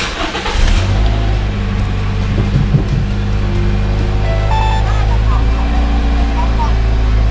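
A Toyota Vitz RS engine starts with a brief crank, then settles into a steady, loud idle that continues throughout.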